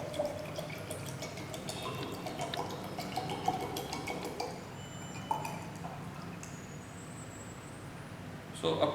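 Water is poured into a glass pycnometer bottle during a specific gravity test, giving a soft, steady trickle and dripping under a faint background hum, with a voice talking at times.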